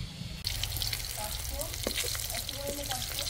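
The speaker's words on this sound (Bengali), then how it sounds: "দুর্ধর্ষ মাছ ভাজা চলছে" Katla fish frying in a pan over an outdoor wood fire, a steady close crackling sizzle running throughout with faint clinks and some background activity.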